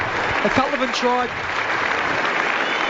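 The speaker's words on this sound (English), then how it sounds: "everyone's standing to applaud that" A stadium crowd at an AFL match between the Adelaide Crows and West Coast Eagles stands and applauds, a broad steady wash of clapping under a commentator's voice.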